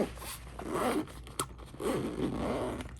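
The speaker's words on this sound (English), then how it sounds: "And I will zip this up." A tech pouch is zipped shut up close, with two drawn-out rasping zipper runs separated by a brief pause.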